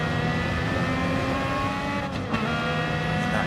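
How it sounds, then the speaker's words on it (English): Formula 1 car engine in a sim racing game at Brands Hatch, throttle being feathered; a steady, buzzing engine whine holds close and loud, with a brief dip and wobble in pitch midway. "Feathering the throttle, Bajonski."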